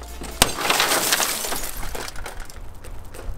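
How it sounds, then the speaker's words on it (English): A car window bursts under a glass breaker tool: one sharp, loud crack followed by a spray of tinkling, falling shards that fades over a few seconds. "I got showered in glass."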